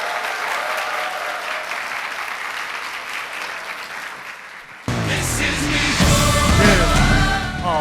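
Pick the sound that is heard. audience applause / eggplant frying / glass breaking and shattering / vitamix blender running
audience applause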